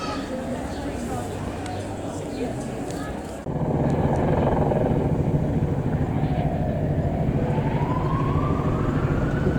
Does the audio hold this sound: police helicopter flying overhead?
yes